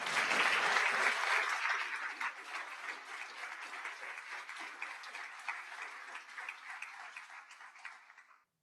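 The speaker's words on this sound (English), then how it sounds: "Will all of those who helped plan this event please stand so we can applaud you for your efforts?" A convocation audience applauds event planners, sustained full-room clapping that starts strong, settles to a steady level, then fades out at the end.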